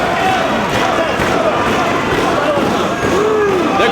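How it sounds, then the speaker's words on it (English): A wrestling crowd roars steadily and loudly throughout, a dense wall of cheering and shouting from a packed arena during a match featuring Jay Lethal, with no clear breaks. "The crowd wants to see the tag."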